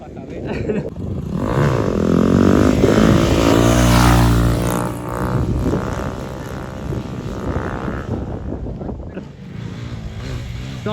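Bajaj Pulsar 220 motorcycle engine roaring through a long wheelie, swelling to a loud sustained drone near the middle and then fading to a lower hum. Voices can be heard over it.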